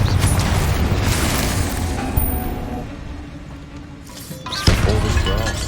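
A booming fiery blast from the Confringo spell in Hogwarts Legacy, a loud rumbling explosion with crashing debris that swells, fades over a few seconds, then a second burst hits near the end.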